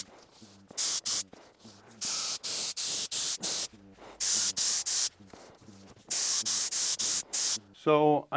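Repeated bursts of aerosol spray paint on Rover 75 interior trim parts, hissing in short and longer blasts with brief pauses between, close by, ending with a rattling shake of the can.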